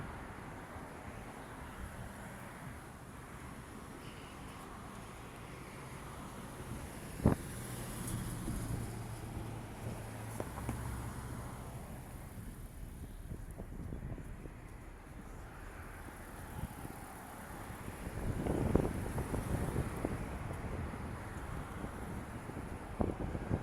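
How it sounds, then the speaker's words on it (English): Strong wind on a street walk along Michigan Street in Grand Rapids, Michigan at sunset, a low continuous rumbling buffet with gusts and passing traffic, faint and steady throughout. "I have the heavy wind muff on today because this wind is absolutely insane."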